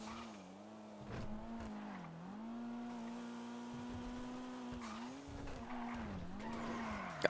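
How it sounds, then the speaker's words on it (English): Tires skid and squeal as a car drifts in a video game, long wavering screeches over a revving engine, sliding in several sweeps across the clip with no talk. "Let me see a drift."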